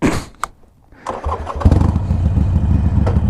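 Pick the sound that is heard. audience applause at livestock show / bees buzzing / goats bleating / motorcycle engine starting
motorcycle engine starting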